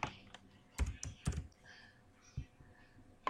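Computer keyboard keys clicked close by in a few short irregular taps while copying code in Dev C++, quiet overall, with faint talking nearby.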